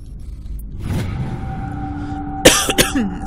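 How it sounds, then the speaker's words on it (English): A man coughs a couple of times during a Mass Effect gaming session, sharp close bursts heard over the game's low hum and a steady electronic tone. "Sorry for all the coughing,"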